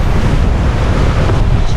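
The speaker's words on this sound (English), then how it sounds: "nothing but the expanse of the ocean" Open-ocean waves and strong wind rushing past a sailboat under way through the Mona Passage, a loud, constant roar of wind buffeting the microphone over the steady wash of the sea.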